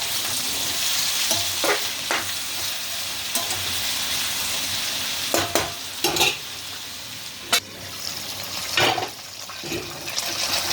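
Ivy gourd (dondakaya) sizzles and fries steadily in a pan, with several louder scraping stirs breaking through the constant crackle.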